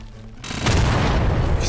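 A powerful cannon in Garry's Mod lets off a single heavy, close gunshot boom, followed by a loud, sustained rumbling blast that carries on to the end.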